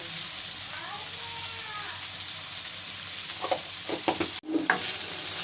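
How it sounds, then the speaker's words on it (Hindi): Okra (bhindi) frying in a pan gives a steady close sizzle with a few stirring clatters near the end. A voice speaks faintly early on. "तो ये मैं सारा अच्छा सा फ्राई कर लूँगी।"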